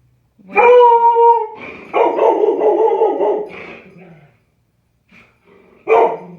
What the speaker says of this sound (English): you're a great guard dog